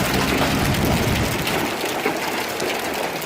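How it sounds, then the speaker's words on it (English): Large hail and rain beating down outdoors in a dense, loud, continuous roar of impacts with a deep rumble under it, and no voices heard. "look at the size of that friggin' hail"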